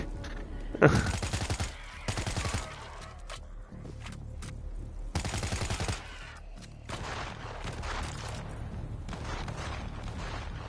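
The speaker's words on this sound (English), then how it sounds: "Gunfire from the bus." Bursts of rapid gunfire in a World War Z video game crackle in several volleys, some sharp single shots between, with a steady low background rumble throughout.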